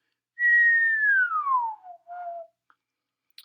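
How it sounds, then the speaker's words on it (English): A single clear human whistle glides slowly downward in pitch, then a short lower note follows, with silence around it. "I'll whistle."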